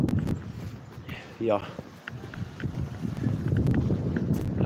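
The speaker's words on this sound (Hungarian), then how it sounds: "csak fúj a szél" Wind blows outdoors on a cold winter day, a steady low rumble buffeting the microphone throughout, with someone speaking briefly over it.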